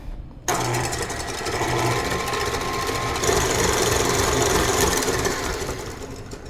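Electric mixer beating egg whites until foamy, starting abruptly into a loud, steady rattling whir that runs continuously and close for about six seconds.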